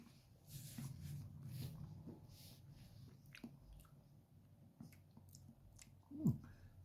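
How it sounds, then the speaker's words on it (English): Close crunching and squishy chewing on a pickled jalapeño pepper, with soft irregular bites and mouth sounds over a quiet room and one sharper crunch near the end. "More munching time?"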